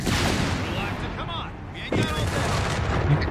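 Company of Heroes 3 artillery and gunfire shell a house in heavy booms and rattling shots, with a big impact near the middle. The blasts are loud and close, and a voice talks over them.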